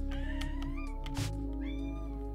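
A house cat yells loudly indoors, giving a series of drawn-out, insistent meows close by over a steady low hum.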